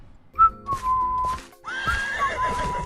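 A horse whinnies twice in close, loud, high wavering calls, a shorter call first and then a longer one, with a sharp thump between them and a faint clatter underneath.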